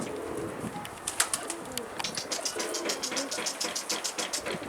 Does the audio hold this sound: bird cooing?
yes